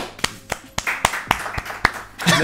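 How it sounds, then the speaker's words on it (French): Clapping from a small studio audience welcoming a guest onto a football talk show, a sparse run of single, evenly spaced hand claps, close and fairly quiet, ending in a brief rustle. "Mesdames et messieurs, veuillez applaudir Jonathan Bensadoun"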